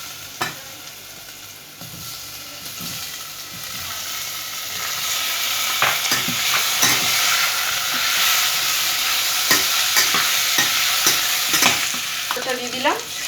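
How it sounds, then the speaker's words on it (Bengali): Ginger and masala stirred in a frying pan, then potatoes added: a constant hissing sizzle that grows louder, punctuated by irregular scraping stir strokes near the end, with no talking. "এখন আমি আদাটা দিয়ে দিলাম, দিয়ে দিচ্ছি, দিয়ে মশলাটা একটু নেড়ে আমি আলুটা দিয়ে দিচ্ছি।"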